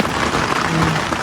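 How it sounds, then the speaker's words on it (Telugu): Heavy rain pours down in a steady, dense hiss, loud and unbroken throughout, with no voices over it. "ఇంకే 2వ రౌండ్ వస్తుంది ఈ వర్షం"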